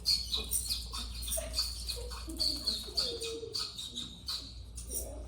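Pigeons or doves cooing from overhead, soft low calls repeating irregularly against a steady background hiss, with a few faint chirps mixed in and no talking.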